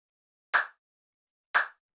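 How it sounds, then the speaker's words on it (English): Smooth, organic clap sample from a lo-fi house track, struck twice about a second apart, each hit short and crisp with a brief tail, isolated in silence. "It's just kind of like a nice clap sample."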